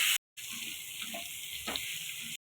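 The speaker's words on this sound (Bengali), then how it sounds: "ফুলকপিগুলো ভেজে নেব।" Cauliflower pieces fry in a pan with a steady, bright sizzle that begins after a brief gap and keeps going at close range with no voices.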